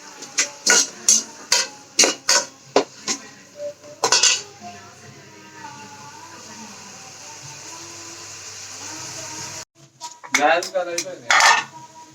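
Onions frying in a pan with salt are scraped and stirred with a metal utensil, giving sharp clinks and clatters in bursts at the start and end, with a steady low sizzle in between.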